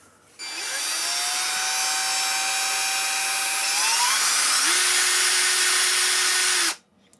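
Cordless 18V sheet metal shears, a drill-style tool with an off-center bearing, whine steadily at close range for about six seconds, shifting pitch once midway before cutting off abruptly.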